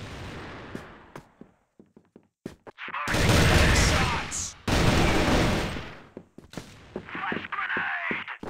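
Gunfire in a competitive online shooter match, scattered single shots and short bursts, then two sustained loud volleys of rapid fire and explosions, under a caster's commentary.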